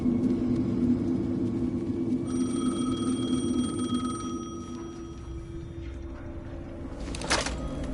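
Telephone ringing in the video game Alan Wake 2, a steady electronic ring tone sounding from about two seconds on over a low game rumble, with no one speaking.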